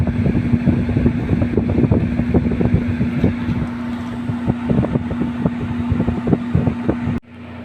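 Steady, loud whirring drone of a Carrier window-type air conditioner fan running on a unit that is not cooling, with a constant hum and fluttering airflow that cuts out abruptly near the end.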